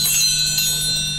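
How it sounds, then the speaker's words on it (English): Bells ring during a spirit gathering at the St. Charles Hotel, producing a sustained, shimmering metallic tone with bright overtones that hang steadily, loud and close, with no talking. "now, next, ringing the bells."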